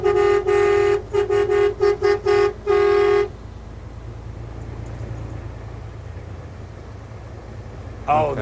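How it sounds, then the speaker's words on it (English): A vehicle horn honks in a quick series of loud, uneven toots on a road during a 2022 trucker convoy, followed by steady traffic rumble and one brief tone at the very end. "I honk for all the Super Troopers too."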